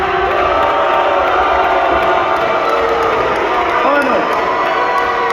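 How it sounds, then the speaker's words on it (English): A New York crowd at a boxing press conference for Garcia vs. Romero cheers, hoots and hollers in a loud, steady roar, with a voice talking over the din. "I saw a lot of people cheering, a lot of hooting and hollering"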